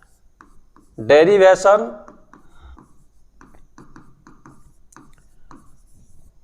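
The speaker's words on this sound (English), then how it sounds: "We write heading" Faint, steady scratching of a pen writing a heading for a physics derivation, following a brief spoken word and continuing alone.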